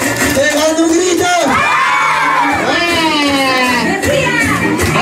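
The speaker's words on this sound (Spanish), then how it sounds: "Haciendo palmas, pegando un grito." Children at a lively festive event shouting and whooping together in a loud crowd, with excited yells rising and falling over chatter.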